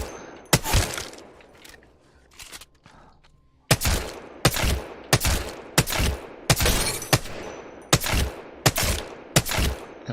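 Rapid bursts of gunfire in Apex Legends aim practice, a few scattered shots at first, then a steady run of loud, evenly spaced volleys with brief gaps between them.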